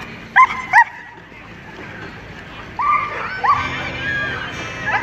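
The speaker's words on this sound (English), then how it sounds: "for a big dog, he has a little, very, very tiny yip." A big dog gives two short, high yips near the start, followed by whining, squeaky vocal sounds while people talk and laugh nearby during play with an exercise lure.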